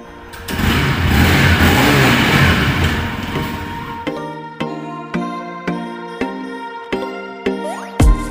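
A vehicle engine on a morning ride revs with a loud, rising and falling roar for several seconds, then cuts to a series of sharp separate tonal hits.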